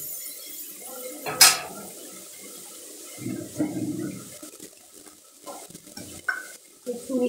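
Spices, cumin powder, ginger and chili being stirred and fried in a pan for Bengali kochur dom, with irregular scraping and soft sizzling bursts, moderately close, plus occasional clinks and no speech.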